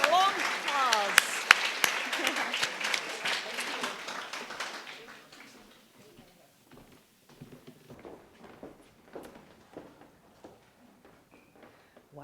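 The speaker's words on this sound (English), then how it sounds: "Oh, well, you can applause. A long applause." Audience applause at a live storytelling event begins loudly and thins out within a few seconds. Scattered claps and soft room noises follow in a quieter space.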